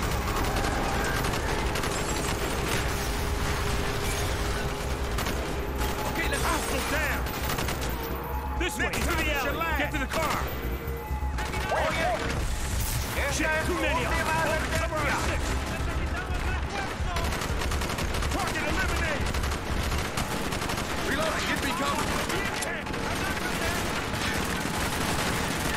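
Heavy, continuous gunfire in Call of Duty Black Ops, with dense overlapping automatic bursts and battlefield clatter kept loud throughout, while voices talk over the shooting.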